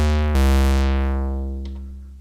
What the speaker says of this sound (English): This is what you're hearing is the raw sound.